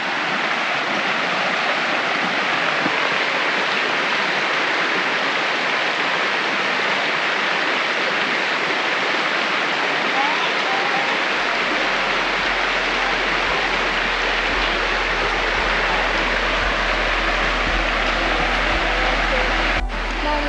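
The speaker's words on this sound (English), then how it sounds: "Let's go look at the creek." Creek flowing beside a former oil pump station turned bed and breakfast in Bloomsburg, Pennsylvania, a loud, steady broadband rush of water that continues throughout, with a low hum entering partway through.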